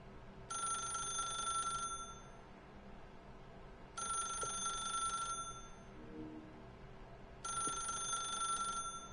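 A telephone rings in a video game, three separate bursts of a bright electronic bell spaced a few seconds apart, clear and fairly quiet with no talk.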